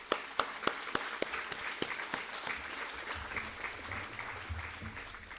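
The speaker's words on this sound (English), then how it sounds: "Let's give our managers a round of applause." A room of cooperative members at an annual meeting applauds the managers, with a few sharp claps up front giving way to steady, dense clapping that holds through to the end.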